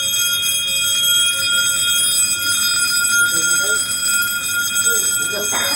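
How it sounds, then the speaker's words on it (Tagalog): A fire alarm panel sounds its first alarm, a steady high electronic tone running throughout, with people talking nearby over it. "Alarm lang yan, first alarm"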